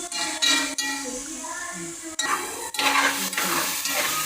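Tomatoes fry in a pan for tomato rice, a soft sizzle with scraping stirs and a few metallic clinks while voices, including a child's, talk nearby.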